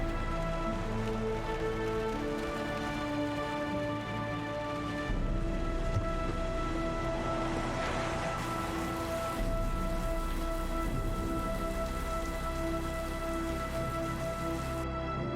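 Steady rain patters in the video game Heavy Rain, a continuous hiss mixed with sustained humming tones and low rumble, holding at an even loudness throughout.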